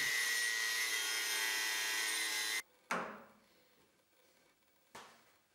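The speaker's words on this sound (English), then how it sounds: "I need these legs to be shorter than the shortest version available, so out comes the angle grinder." An angle grinder cuts through metal bench legs with a loud, steady broadband screech for over two seconds, then cuts out; two shorter bursts follow after pauses, each spinning down.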